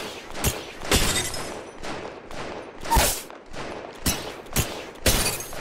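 R-301 rifle in Apex Legends modified to fire slowly: single heavy shots ring out about once a second across the clip, each a sharp loud crack with a brief tail, with no talk.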